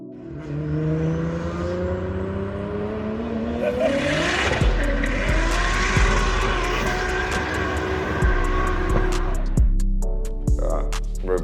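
A twin-turbo JDM car with five mufflers pulls away from a car meet, its exhaust note rising in a steady revving sweep that grows louder, with a broad rumble and crowd noise around it.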